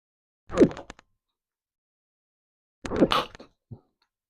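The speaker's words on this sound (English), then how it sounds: "Sorry, I just had to sneeze." Two short, close sneezes from a person, each a sharp explosive burst separated by silence, with a small sniff just after the second.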